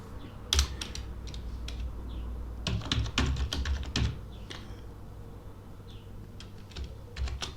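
Keys clatter on a computer keyboard in quick irregular bursts, close and moderately loud, with brief pauses between runs of typing.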